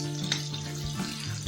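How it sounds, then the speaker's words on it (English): Steady sizzling of ginger garlic paste frying in a pan, with faint scraping as it is stirred with a spatula, close and continuous. "Keep ginger garlic paste moving across the pan using spatula"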